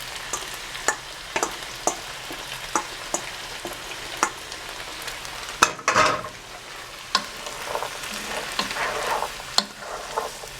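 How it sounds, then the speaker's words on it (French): Rinsed button mushrooms frying in a pan for a vegetable sauté, a steady sizzle with repeated sharp clicks and scrapes of stirring and a louder clatter partway through, no voices. "maintenant je vais ajouter mes champignons de Paris que j'ai rincés"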